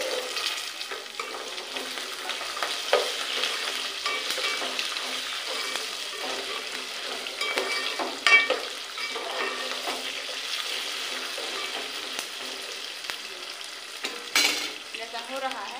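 Garlic sizzles steadily in a hot pan with a frying masala, while a spoon scrapes and stirs through it in occasional sharp knocks, close up and continuous.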